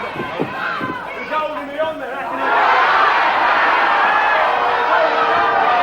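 A wrestling crowd reacts to a wrestler, with scattered shouts and chatter that swell after two seconds into a loud, sustained roar of booing and jeering, mixed with voices.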